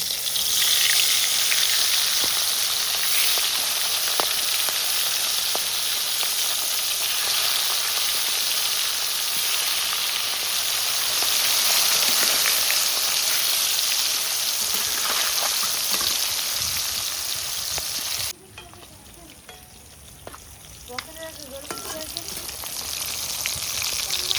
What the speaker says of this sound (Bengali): তেল গরম হয়ে গেছে, মাছ দিয়ে দিচ্ছি।